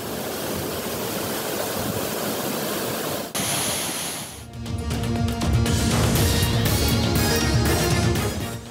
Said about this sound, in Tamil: தேனி கும்பக்கரை அருவியில் நீர்வரத்து சீரானது.